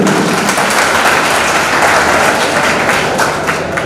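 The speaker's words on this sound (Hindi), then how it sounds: "आप दुष्यंत जी के लिए एक बार जोरदार ताली दें" Loud, steady applause from a crowd at an event in Anta, filling the whole stretch without a break and with no talking over it.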